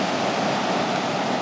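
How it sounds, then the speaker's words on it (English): Ocean waves on a Puerto Rico beach make a dense, continuous roar of surf and wash, steady and fairly loud throughout the short stretch, with no voices. "And we're looking at waves today. It's waves and lots of waves."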